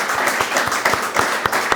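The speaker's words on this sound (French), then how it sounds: "Applaudissements pour Maître Bellion Louboutin." A studio audience on a French civic television program applauds with steady, fairly loud clapping, individual sharp claps standing out through the brief burst.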